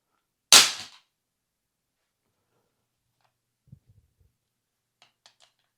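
One sharp, loud impact of a SIG P320 pistol hitting the ground in a drop test, followed by a few faint clicks and rattles from the slide in the quiet.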